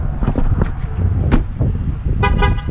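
A vehicle horn blares in short honks near the end, over the hum of an idling engine.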